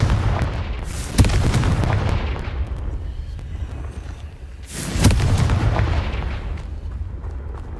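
Explosions from the Confringo spell in the video game Hogwarts Legacy: two loud booming blasts with long rumbling decays, the first near the start and the second midway, no talking.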